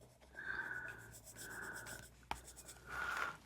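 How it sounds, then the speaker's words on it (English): An Inktense pencil scribbles on ordinary paper in several short, close scratching strokes separated by brief pauses, with one sharp tap partway through. "And just scribbled it on"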